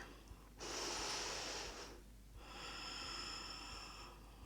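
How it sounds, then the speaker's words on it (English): A slow, deep breath during a standing yoga pose: a long, airy inhale through the nose, a brief pause, then a steady, drawn-out exhale, close and fairly quiet with no talking. "Take another breath."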